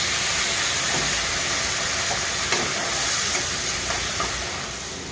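Water poured into a hot pan of omelette curry with tomatoes, green chillies and turmeric sizzles and hisses loudly and continuously, fading slightly toward the end with a few small pops.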